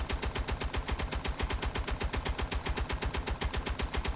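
Rapid, steady automatic turret gunfire in a video game, a continuous loud burst of evenly spaced shots running the whole time with no talk over it.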